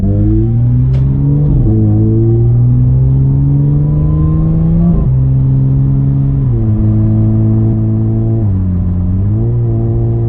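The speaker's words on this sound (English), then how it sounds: "so there's that tone in the exhaust, and that happens mostly on like uphill stuff" An Audi S4 with an AWE Tuning Touring exhaust revs and accelerates through several gears on a main road, pitch climbing then dropping at each shift, the exhaust loud and steady throughout.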